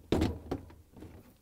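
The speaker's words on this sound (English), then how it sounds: "Slide it in, turn it, and the front goes first in" Plastic freezer basket being slid back into an LG/Kenmore freezer drawer, a sharp thunk followed by a second lighter knock and faint sliding scrapes, close and brief.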